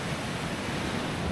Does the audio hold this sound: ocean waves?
yes